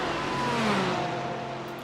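Race cars in a Fuji GT series sim racing game pour down the front straight in a steady, sustained engine roar, with faint rising and falling tones as cars run close together.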